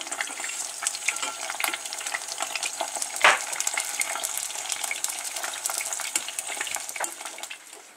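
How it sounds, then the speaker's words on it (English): Sausages browning in a pan, sizzling and spitting steadily throughout with crackling pops, close and fairly even in level, with one sharper clatter partway through. "I'm going to go and brown off the sausages in a pan"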